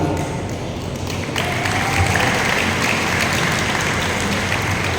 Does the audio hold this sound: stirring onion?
no